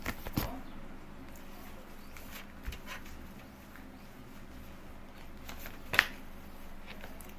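Tarot cards are shuffled and drawn during a reading, heard as faint soft rustles and a few brief card snaps over a quiet room background.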